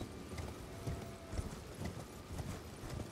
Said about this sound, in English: Is there a guy on a horse?